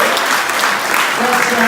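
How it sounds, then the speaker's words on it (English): Loud, dense audience applause at a Strictly-style dance fundraiser show, a continuous wash of clapping with a voice faintly underneath. "Give them a round of applause."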